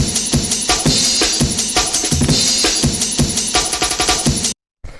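A layered 90s jungle drum break plays as a fast, choppy run of loud kicks, snares and cymbal hits on its own, then cuts off abruptly and gives a brief final hit.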